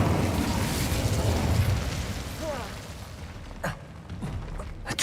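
An Incendio fire spell cast in the video game Hogwarts Legacy, a loud roaring whoosh of flames that dies down, followed by a few sharp impacts.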